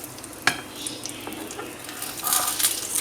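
Breakfast items frying gently in a pan over a low flame until golden underneath, with a soft steady sizzle, a sharp utensil clink near the start and light stirring and scraping sounds building toward the end.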